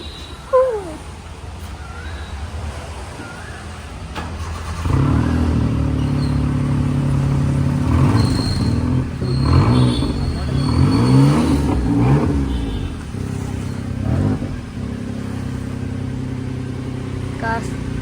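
A car engine turns over at about five in the morning and settles into a steady idle, humming with a few revs while someone talks over it.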